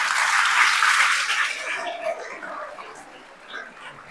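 A group of children clap for themselves in a crowded burst of applause that starts loud and fades over a few seconds into scattered claps and faint voices.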